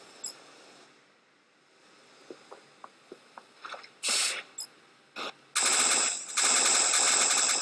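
Gunfire in the Freefall video game: faint scattered clicks give way to loud bursts of rapid automatic fire, the final bursts sustained and dense, with no talk over them.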